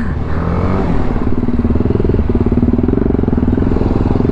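A Jawa motorcycle engine thrums loudly and steadily nearby, a close, continuous rhythmic exhaust beat that stays strong throughout with no talking.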